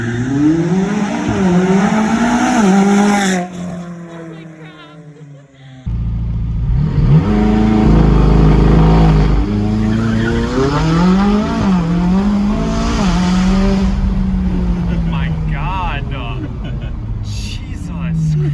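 A tuned McLaren launching hard with launch control and accelerating, its engine revving loudly with a brief drop between bursts, while excited voices talk and shout over it throughout.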